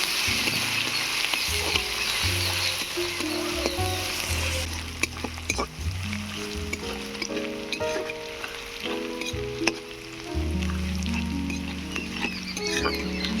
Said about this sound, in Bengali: এবারে দিয়ে দিচ্ছি পেঁয়াজ কুচি রসুন বাটা পেঁয়াজ রসুনটাকে ভেজে নেবে